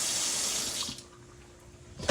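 Water runs from a kitchen tap into a sink to wash grapes, a loud steady rush that drops away partway through and briefly surges again at the end.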